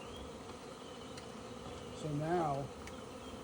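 Honey bees from a swarm hanging in a tree give a faint, steady outdoor hum, and one bee buzzes loudly past close by near the end. Someone speaks briefly.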